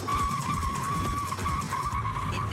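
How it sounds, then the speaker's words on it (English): Tires squeal steadily as a car drifts sideways on a Top Gear US track test, a loud, sustained skid that holds its pitch over the engine's low rumble for the whole stretch, with no speech. "My car for life has to drift."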